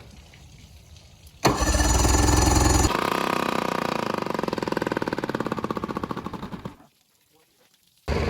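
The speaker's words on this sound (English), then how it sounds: "Just crank it over once." A boat's outboard motor being cranked over roars in a loud burst, then settles into a fast, rhythmic chugging that cuts out abruptly before a short restart at the end.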